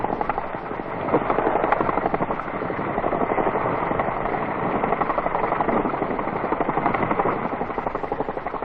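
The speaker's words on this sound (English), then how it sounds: "the relieved unit is flown in Chinook helicopters from Nui Dat direct to HMAS." Heavy rotor thudding and engine roar from Chinook helicopters fill the air continuously, loud and close, with a rapid rhythmic chop throughout.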